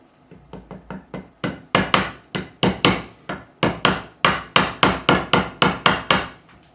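The nylon side of a fret mallet taps a guitar fret during a refret of an Ernie Ball Music Man Silhouette. About twenty sharp, close knocks come in a steady rhythm that grows louder partway through.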